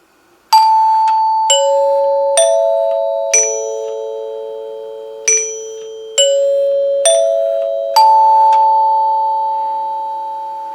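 A NuTone K40 Symphonic door chime rings out a sequence of eight clear, bright bell tones spaced about a second apart, each struck note ringing on and overlapping the next in a quiet room.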